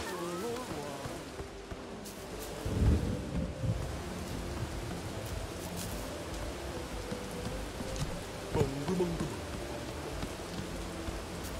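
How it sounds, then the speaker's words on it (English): Steady rain with faint thunder rumbles in the video game Bugsnax, a continuous wash of rainfall under game music and ambient tones, with a few louder swells. "Good call on the raining stuff"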